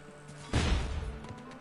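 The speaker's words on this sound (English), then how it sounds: "Or just run past the explosions like that." An explosion in the video game Knack goes off as a single sudden blast. A short crashing burst is followed by a fading rumble over about a second, set against quiet game background sound.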